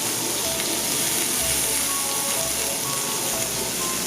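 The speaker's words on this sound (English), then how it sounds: "And we're just gonna saute this and let the flavors come out." Green, red and orange bell peppers sauté in a hot pan, making a steady, dense sizzle that holds evenly throughout at close range.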